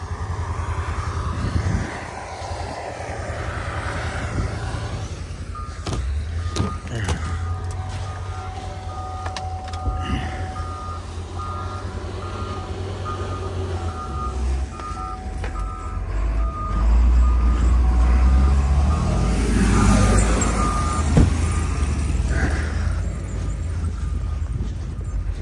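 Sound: truck started and running with reversing beeps in snow

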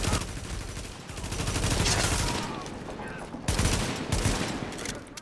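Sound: gunshots in the video game The Division

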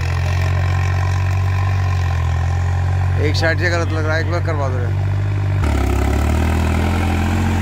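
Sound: tractor engine idling during field demo

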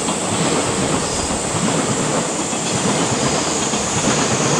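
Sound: train passing on rails

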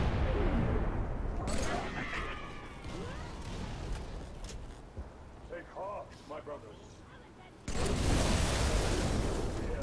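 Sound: battle rifle gunfire in Halo 3 video game

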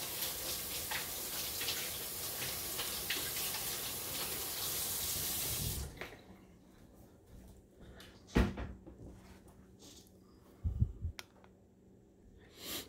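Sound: rinsing hands under running tap water

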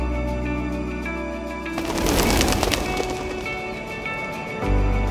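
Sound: birds in Malaysian nature

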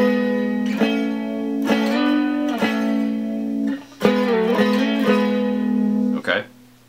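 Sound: guitar playing melody

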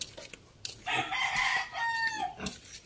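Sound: chickens in a small backyard chicken coop

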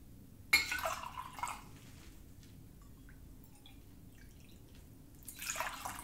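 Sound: warm water and vinegar being poured for egg dye

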